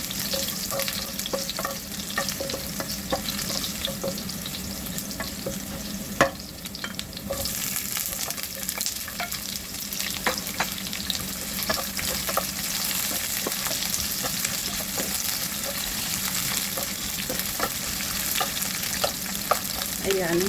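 Garlic browning in oil in a pan, a steady close sizzle with frequent scraping and tapping from stirring throughout, no voices.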